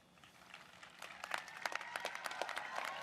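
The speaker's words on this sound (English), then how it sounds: "Please join me in applauding these graduates." Graduates at a 2021 School of Engineering commencement ceremony receive applause from the audience, starting faint and building into scattered, uneven clapping that grows denser and louder over a few seconds.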